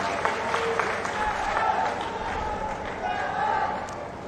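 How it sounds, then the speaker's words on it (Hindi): A crowd at an Aam Aadmi Party public rally in Fatehabad applauds: dense, continuous clapping that holds steady for several seconds, with voices mixed into the noise. "इनका भी एक बार जोरदार तालियों से आम आदमी पार्टी में स्वागत कर दीजिए"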